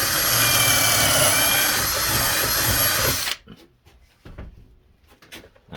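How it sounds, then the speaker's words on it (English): A power drill bores a hole in wood for a windmill planter, a loud steady whine for about three seconds that cuts off abruptly, followed by a few quiet knocks and handling sounds. "line it up, clamp it in place, drill our hole"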